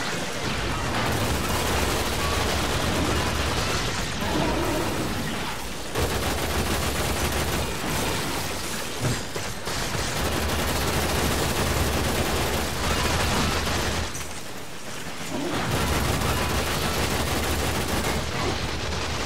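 Dense, continuous gunfire from a Warframe survival mission, loud bursts of rapid shots running almost the whole time with only brief lulls.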